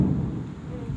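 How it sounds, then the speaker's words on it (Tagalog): Loud thunder rumbles low and steady through the whole short span, a continuous deep roll with some rain-like texture and no clear break. "Ang lakas naman ang kulog."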